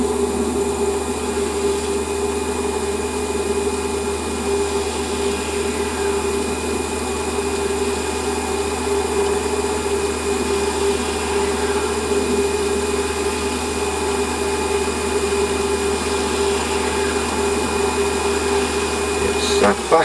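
A metal lathe facing a part for a Stuart S50 model steam engine runs with a steady, close, continuous mechanical whine and hum that holds level throughout, with no talking.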